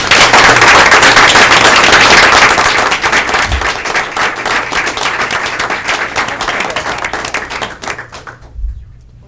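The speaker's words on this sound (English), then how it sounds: "let's give these students a round of applause" An audience at a school board meeting gives students a round of applause: dense, loud clapping that gradually thins out and stops near the end.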